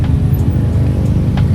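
Dense, congested car and bus traffic on a busy road in Bandung, a loud, close, steady roadway rumble with brief hiss-like bursts from passing vehicles.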